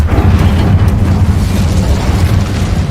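The Incendio fire spell cast in Hogwarts Legacy, a loud, dense rumbling burst of flame and impact that roars continuously for the whole moment, with no talk over it.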